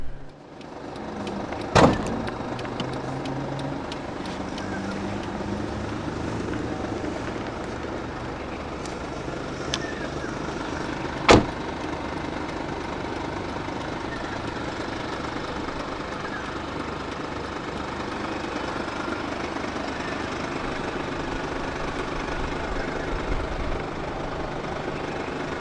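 A 2015 Mercedes-Benz E 300 BlueTEC Hybrid diesel idles with a low, steady hum, heard from near the car, with two sharp clicks standing out briefly above the even engine drone.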